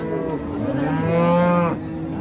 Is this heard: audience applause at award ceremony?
no